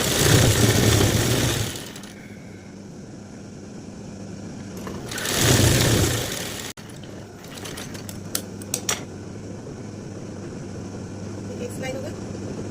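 Sewing machine stitching a pant, heard in two loud sustained whirring runs in the first half, followed by quieter handling clicks and taps.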